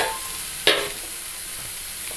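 Banana flower thoran being stirred in a pan with a single sharp scrape of the spoon, then a soft continuous sizzle of frying, close and fairly quiet with no talk.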